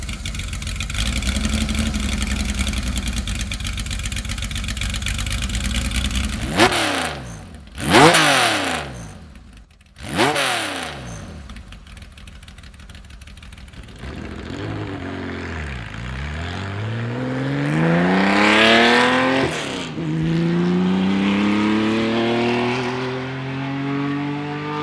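A narrow-body Porsche 911 with a 2.8 RSR engine idles roughly, then snaps through several sharp revs before pulling away in rising and falling sweeps, loud and close throughout.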